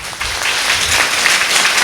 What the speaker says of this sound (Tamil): எங்க நல்ல ஒரு கைத்தட்டு கொடுங்க ஆண்டவருக்கு